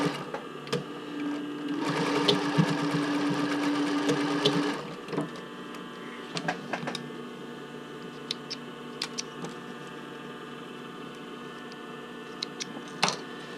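A sewing machine runs in one steady burst of a few seconds while stitching velvet for a bra band, followed by scattered clicks and small handling taps in a quiet room.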